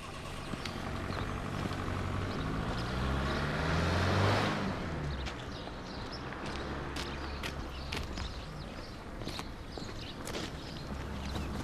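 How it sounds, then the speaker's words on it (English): A car drives out of a village, its engine swelling to a peak about a third of the way through, then receding into a steady outdoor background with a few faint ticks and knocks, no voices. "I've just seen my car drive out the village"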